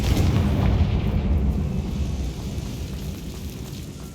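A Confringo fire spell goes off in Hogwarts Legacy on Xbox Series X, a loud, heavy booming blast with a deep rumble that slowly fades over several seconds, with no talking.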